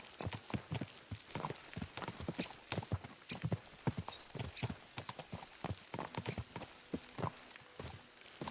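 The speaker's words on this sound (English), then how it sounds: "Let's really spur these horses on, eh?" Horses clip-clop steadily along in the medieval game Kingdom Come: Deliverance II, their hooves making a quick, irregular run of close hoofbeats over several seconds at a moderate level, with faint ambient sounds behind.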